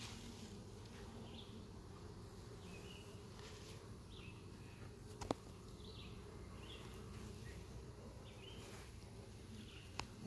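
Honeybees hum steadily around an open hive during a beekeeper's inspection, a low continuous buzz with faint outdoor birdsong and an occasional sharp knock or click.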